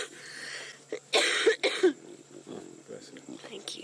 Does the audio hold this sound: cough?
yes